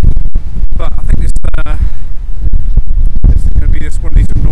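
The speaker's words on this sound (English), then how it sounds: "this is going to be just one of these noisy, windy videos" Strong gusty wind buffets the microphone outdoors on a hillside along Scotland's Highland Boundary Fault. Loud, continuous low rumble with sharp dropouts and bursts, and a voice partly buried underneath.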